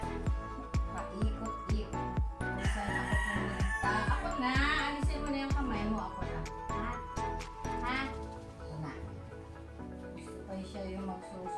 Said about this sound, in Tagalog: naririnig nyo ang tilaok ng manok dahil kami nakatira sa farm